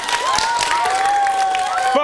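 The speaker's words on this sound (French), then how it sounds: "On pourrait les applaudir pour leur sourire." A studio audience at a French-language children's TV show claps and cheers in a loud, continuous burst, with bright whistling and voices mixed into the applause.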